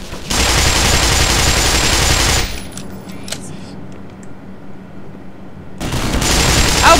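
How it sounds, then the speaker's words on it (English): Rapid machine gun fire in Half-Life: Black Mesa, a loud dense burst lasting a couple of seconds, then a quieter stretch with scattered distant shots, before another loud volley erupts at the end. "that guy's on a machine gun"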